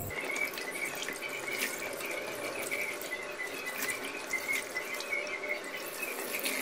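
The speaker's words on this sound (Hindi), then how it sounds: "पहले जो हमने आटा और बेसन लगाया उसे हम अच्छी तरह धो लें।" Goat tripe being washed under running water in a sink, a steady splashing tap stream with occasional squeaky rubbing, continuous and close, with no talking.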